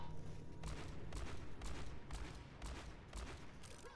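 McCree's revolver firing in the Overwatch video game, roughly seven evenly spaced gunshots in quick succession, moderately loud with no talking.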